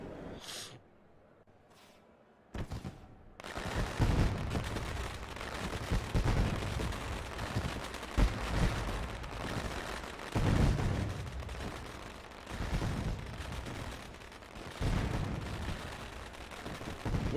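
Fireworks bursting over the Eldora race track, a dense, continuous barrage of loud cracks and booms rolling on for many seconds after a few scattered early pops, crowd ambience underneath.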